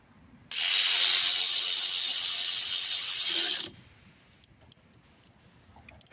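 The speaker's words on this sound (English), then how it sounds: "I'm gonna use my little ratchet and I'm gonna start tightening those two bolts." A small hand ratchet tightening the bolts on the drive belt tensioner of a 2003–2013 Honda Accord, giving a dense, continuous clicking for about three seconds with a brief louder clank at the end, followed by near silence.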